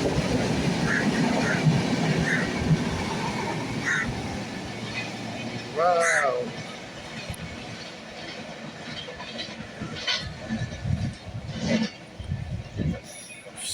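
A train rumbling past at Irinjalakuda railway station in Kerala, loud at first and then fading, with a short horn-like tone and voices in the background.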